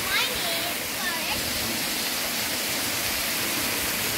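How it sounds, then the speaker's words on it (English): Steady, broadband roar of a large waterfall at Percy Scenic Reserve, constant and enveloping, with faint voices now and then under the rushing water. "Big, big waterfall."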